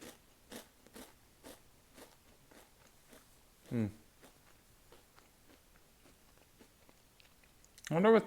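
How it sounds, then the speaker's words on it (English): Chewing snacks at a breakfast mukbang, heard close to the microphone as a series of soft, irregular crunchy bites, with a louder burst near the end. "I wonder with the microphone being here if you can hear me chew"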